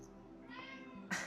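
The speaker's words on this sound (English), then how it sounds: "the cat is pretty loud." A loud house cat meowing indoors, one drawn-out meow that swells near the end, close to the listener with a low steady hum underneath.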